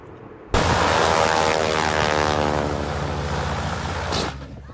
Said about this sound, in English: Pero se le fue para adelante el avión, hizo percha. Se rompió la hélice.